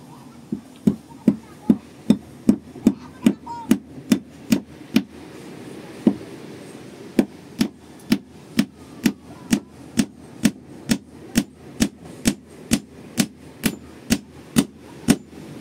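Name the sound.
hammering a nail into wood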